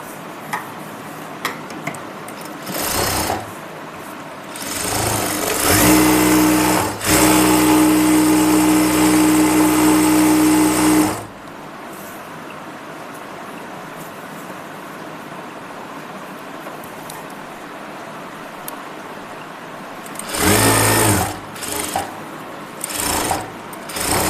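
A sewing machine stitches a single-seam palazzo in a loud, steady run of about five seconds, set between shorter bursts of stitching and quiet pauses of handling the fabric.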